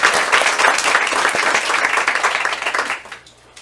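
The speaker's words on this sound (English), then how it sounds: "Can we please give Allison a round of applause?" Board of education meeting audience gives a student advisor a round of applause, a loud, dense wash of clapping that holds steady and then tapers off quickly.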